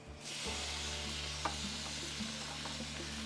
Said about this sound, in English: So let me reposition the camera and we'll go for our sear.